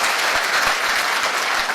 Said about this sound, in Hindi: ताली जोरदार बजा दीजिए